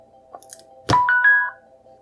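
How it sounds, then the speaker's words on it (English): A smart door camera device sounds a short rising electronic chime of a few bright tones right after a sharp click, over a low steady hum in a quiet room. "So did you hear the chime?"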